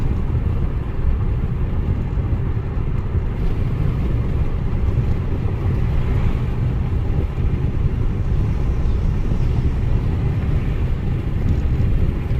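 A 2022 Ford Maverick Hybrid is out on the road, with a loud, steady hum of road and engine noise rumbling continuously from inside the cabin and no speech.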